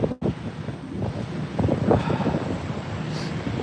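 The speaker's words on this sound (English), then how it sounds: "It's got really windy." Strong wind gusts straight into an outdoor microphone, producing heavy, uneven low rumbling and buffeting that swells and fades over a few seconds with no one speaking.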